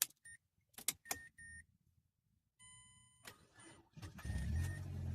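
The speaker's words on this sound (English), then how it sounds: "Let's go in and try and start the Miata again." Keys jingle and switches click on a 2010 Mazda MX-5 Miata. The starter then cranks briefly before the engine catches into a loud, steady running rumble, recorded close up.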